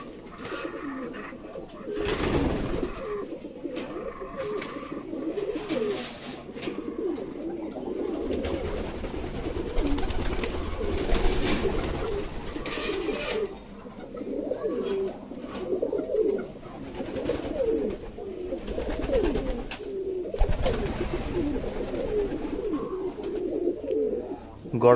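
Black-faced Aparajita pigeons coo steadily and softly over about twenty-five seconds, a continuous low murmuring chorus from several birds kept close by, with no talking.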